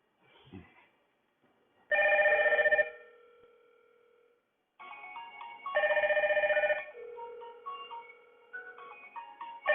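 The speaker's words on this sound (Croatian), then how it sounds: "Znači meni i na mobitelu i na tabletu zvoni" A door phone call rings through a Hikvision AX Pro alarm system on a mobile phone: an electronic ringtone in two loud bursts of melodic tones separated by quieter beeps, close and clear, with no talking.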